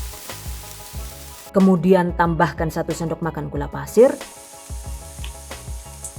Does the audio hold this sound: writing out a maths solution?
no